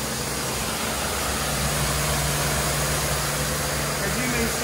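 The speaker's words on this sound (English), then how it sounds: "This is the motor Tornado ASF 3000." A Tornado ASF 3000 motor on a rug cleaning machine at a carpet laundry runs with a steady, unbroken droning hum and hiss, loud and constant throughout.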